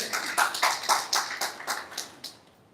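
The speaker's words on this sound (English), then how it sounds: "let us give her a big round of applause" A crowd at a network marketing event claps for a speaker, about nine bright, fairly even bursts of clapping that fade away toward the end.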